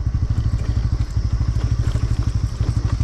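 A motorcycle ridden on an off-road track near Budhanilkantha and Nagarkot chugs loudly and close, its engine thumping in a steady rapid rhythm with a slight clatter throughout.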